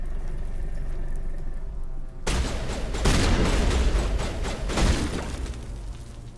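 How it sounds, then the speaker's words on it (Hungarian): Big explosive gunshots in the video game Mass Effect Legendary Edition, a sudden loud blast followed by a rapid series of booming shots and bursts over several seconds, dense and close with no talk. "Ez a nagy lövés, ez eléggé, vagy robbanós, vagy én nem tudom milyen lövés az."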